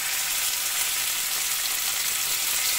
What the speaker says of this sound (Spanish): En una sartén caliente vamos a echar un poquito de aceite y vamos a poner nuestros solomillos